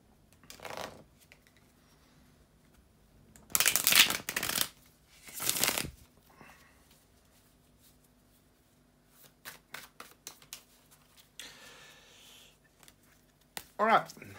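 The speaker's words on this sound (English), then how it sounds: "give me a couple of seconds just to shuffle the cards" Tarot cards are shuffled in several brisk, crisp riffling bursts, with quieter pauses and faint handling noises between them.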